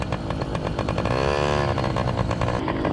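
A tiny two-stroke engine on a 1995 Yamaha PW minibike, running on premix with an oil pump, warms up at a high, buzzy idle. It sits close and loud with a steady rasp and a brief rise in revs midway.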